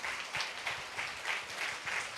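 A church congregation claps in praise to God during a sermon, a steady rhythmic beat of hand claps repeating at a brisk, even pace, moderately loud across the room.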